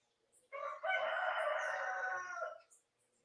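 A rooster crows outdoors, one long, loud, drawn-out call lasting about two seconds with a short lead-in note, heard alone against quiet surroundings.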